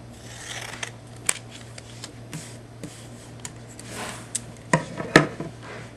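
Scissors snipping paper into triangles, a handful of sharp, close cuts scattered over several seconds with quiet pauses between, the last few louder.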